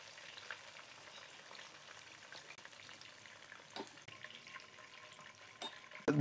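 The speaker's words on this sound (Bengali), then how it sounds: "এটা কিন্তু একেবারে ফুল ফ্রাই করতে হবে না, পেঁয়াজ নরম হয়ে গেলেই তারপর তুলে নিচ্ছি" Onions frying in oil in a pan until soft, a quiet steady sizzle with occasional sharper crackles and a few stirring scrapes, heard alone and fairly faint.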